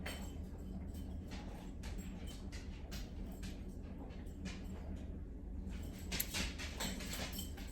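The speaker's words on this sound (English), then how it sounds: "You can hear Kiska playing with a dog treat." A dog chews and plays with a dog treat in a kitchen, giving soft, irregular clicks and gnawing taps that come in bursts over a steady low hum, with no talking.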